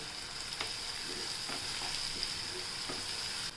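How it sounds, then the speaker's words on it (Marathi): Turmeric stirred into a sizzling frying mixture in a pan, with a continuous close sizzle and several soft scraping stirs spaced through it. "हळद टाकला, थोडे हळवून घेऊया"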